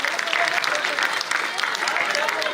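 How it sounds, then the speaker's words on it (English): A crowd at a college live-streamed event applauds after a performer's set, dense clapping across the whole stretch with voices mixed in and loud cheering. "And a big round of applause for Harsh,"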